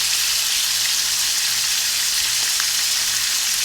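Meat for pot roast browning in a hot skillet of bacon fat and lard makes a loud, dense, unbroken sizzle, a close steady hiss with no talk over it.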